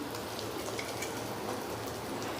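Asafoetida dropped into hot oil in a tempering pan for a Gujarati thali, giving a steady, fine crackling sizzle that stays even and fairly quiet throughout with no talk.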